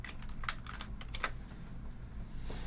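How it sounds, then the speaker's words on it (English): Fingers tap out a web address on a computer keyboard, a quick run of light, close key clicks over a low steady hum, with pauses between bursts and no talking. "let's go ahead. Let's type in the address"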